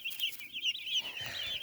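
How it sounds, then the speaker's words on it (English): Hundreds of day-old heavy White Rock meat chicks keep up a dense, continuous chorus of shrill peeping, close and steady throughout. "Little peepers."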